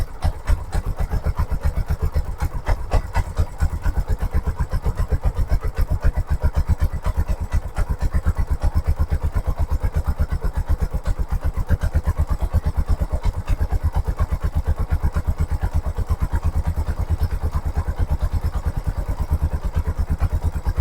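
A tuk-tuk engine idles steadily while its carburettor is adjusted, a loud, close, rapid putter that runs evenly throughout with no talking.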